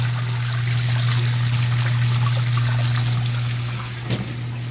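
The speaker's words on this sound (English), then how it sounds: "So it is pumping the water out" A steady low motor hum with water trickling and splashing continuously over it, close by and fairly loud, with no talking: a Whirlpool GHW9300PW4 washing machine drain pump pumping water out, with an F02 drain error.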